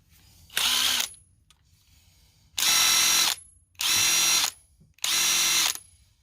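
A Dewalt 12V Xtreme brushless impact wrench set on high with a fully charged 2 Ah battery fires in four loud, close hammering bursts, each lasting about half a second to a second, with short quiet gaps between them.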